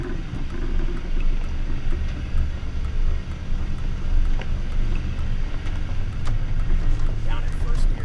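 A Toyota Tundra TRD Pro crawls uphill in first gear and four-wheel low, its engine a steady low rumble mixed with wind and rough ground noise, with someone talking over it.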